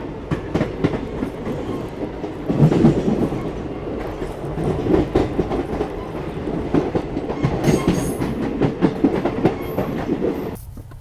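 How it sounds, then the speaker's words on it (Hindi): A train pulling out of Alam Nagar station in the early morning rolls steadily with continuous clickety-clack rumble and wheel noise, loud and close throughout, with faint high squeals near the end. "जस्ट अपनी ट्रेन निकली है आलम नगर से"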